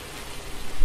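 Steady broadband rain hiss from Farming Simulator 19 on a marsh map, continuous and even with a slight swell toward the end, no talk.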